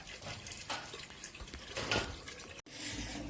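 Water runs from a tap into a container, a soft, continuous splashing stream that stays quiet and close, with one brief break partway through before the flow resumes.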